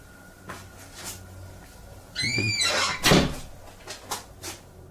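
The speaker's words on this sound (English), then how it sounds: "the demon shuts the door behind him" A door squeaks as it swings, then shuts with a firm thud, followed by a few lighter knocks in a quiet room.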